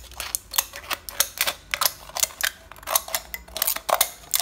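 Cola can being cut around its marked line to separate the top, heard as a close series of sharp, irregular snipping and crinkling bursts of thin metal, with no talking.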